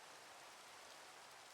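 Rain in the Minecraft ATM10 modpack makes a faint, steady hiss with no breaks and no talking.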